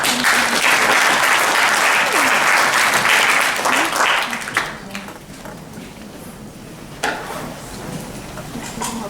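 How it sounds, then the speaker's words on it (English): Audience applause for a keynote speaker at a scientific conference, a dense, loud clapping for about four seconds that tapers into scattered claps and fades toward quiet room noise. "Please give a round of applause for him."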